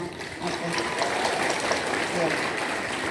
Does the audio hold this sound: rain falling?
no